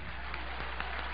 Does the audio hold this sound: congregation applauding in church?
yes